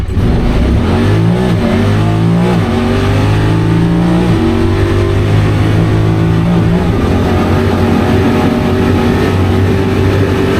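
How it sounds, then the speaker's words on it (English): A tuned Polaris Pioneer 1000 UTV launches at full throttle, its engine a loud, steady roar that climbs in pitch through several gear shifts, close and continuous with no talk. "I'm just gonna floor it and hold on for dear life"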